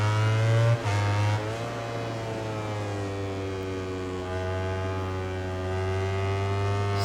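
An Aprilia racing motorcycle engine in MotoGP 19 drones loudly and steadily, dipping briefly near the start and then holding a smooth, sustained high-revving tone with slight pitch drift; no voices.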